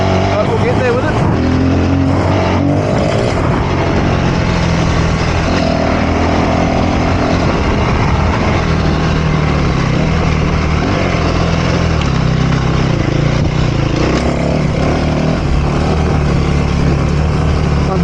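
A dirt bike engine runs steadily while being ridden, a loud, continuous close-up drone with slight shifts in pitch and no breaks across the whole stretch.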